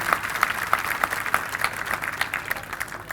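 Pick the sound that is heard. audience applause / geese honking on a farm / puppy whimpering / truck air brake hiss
audience applause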